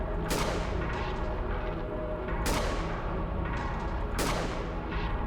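In the horror video game The Glass Staircase, three heavy gunshot booms land about two seconds apart over a constant low rumbling ambience. Each blast is sharp and reverberant.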